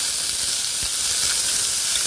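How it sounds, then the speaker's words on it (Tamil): Constant loud sizzling and hissing of ivy gourd (kovaikaai) sautéing in a hot pan, steady throughout with no voices. "அதையும் போட்டு நல்லா வதக்கிட்டு"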